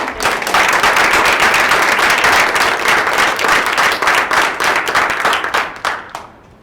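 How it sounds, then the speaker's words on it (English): A conference audience at a fellows' presentation event gives loud, dense applause that holds steady for several seconds and then tapers off near the end. "So let's give them a big applause"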